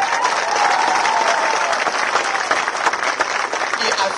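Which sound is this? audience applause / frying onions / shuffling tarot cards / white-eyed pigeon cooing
audience applause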